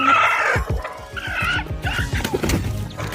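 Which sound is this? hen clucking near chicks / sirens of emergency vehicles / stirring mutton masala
hen clucking near chicks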